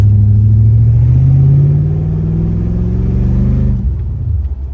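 A 1968 Ford XT with an LS V8 swap drives on a test run, its engine a loud, steady low rumble that rises slightly in pitch, then eases off near the end, with no talking.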